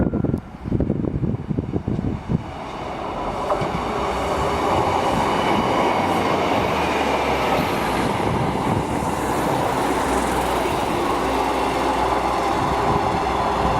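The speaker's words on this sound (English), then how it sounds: "Just coming through now is a pair of 156s." Two coupled Class 156 diesel multiple units pass close by, a loud steady rumble of engines and wheels on rail building after a few seconds and holding to the end.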